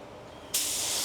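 A paint spray gun hisses as it lays down car paint, a steady broad hiss that starts abruptly partway through and holds evenly, close and alone with no talk.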